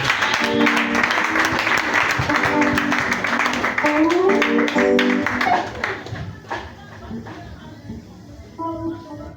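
An audience bursts into sustained applause and rhythmic clapping at a church testimony service, loud and dense at first and then thinning out toward the end, with a voice speaking and music tones underneath.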